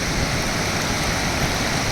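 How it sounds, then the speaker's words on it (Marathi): The Vel River on the Satgaon plateau near Peth, flooded after heavy monsoon rain, sends up a loud, unbroken rushing roar of fast water that fills the whole moment without pause. "सोमवारी सकाळी जोरदार पाऊस सुरू झाल्यामुळे वेळ नदी दुथडी भरून वाहत आहे"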